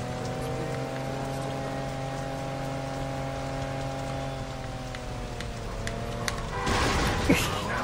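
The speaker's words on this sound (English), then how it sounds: "Figures, we just got this car painted and it's raining." Steady rain in the Saints Row 2 video game hisses evenly throughout, with a sustained engine-like drone underneath and a burst of louder splashing and clatter near the end; no one speaks.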